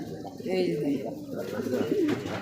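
Pigeons at a pigeon farm in Bangladesh give low, rolling coos close by, repeated in soft bursts, while people talk over the birds.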